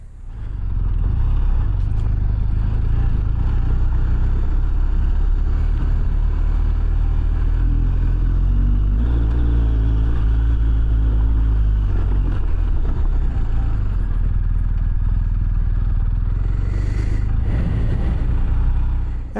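An adventure motorcycle engine roars loudly and continuously as the bike climbs a hill in first gear and then shifts into second, with the engine note rising and falling through the climb.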